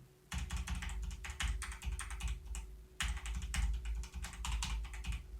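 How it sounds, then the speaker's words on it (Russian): Rapid clacky typing on a mechanical keyboard, close up, in two bursts separated by a short pause. "А сейчас клавиатура."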